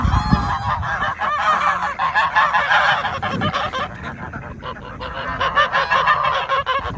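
Ducks honk loudly and insistently close by in a garden, harsh overlapping calls in a steady noisy chorus.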